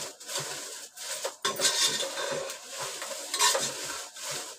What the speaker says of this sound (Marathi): आता मी गरम मसाला भाजणार आहे